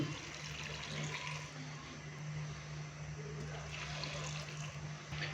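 Water pours steadily into a pot, a continuous splashing rush that runs throughout at moderate loudness with a low hum underneath.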